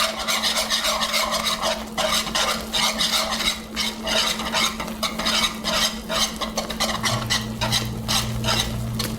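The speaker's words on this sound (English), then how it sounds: "just turn the heat off, and just keep stirring" Caramelized sugar is stirred in a pan with the heat turned off, a busy run of close scraping and clinking strokes over a faint steady hum.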